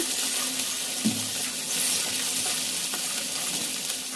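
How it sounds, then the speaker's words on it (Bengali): Cubed potatoes and peanuts fry in soybean oil, a loud, dense, continuous sizzle close up, with an occasional scrape of stirring. "আলুটাকে আমি কিছুক্ষণ ভেজে নিয়েছি, প্রায় 3 থেকে 4 মিনিটের মতো ভেজে নিয়েছি"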